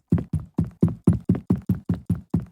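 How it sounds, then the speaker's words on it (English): Eleven evenly spaced footsteps on wooden boards in a Viking Village video game, each a hollow, knocking thud with a quick decay, played one after another, loud and close with no talk. "This is all my wood steps"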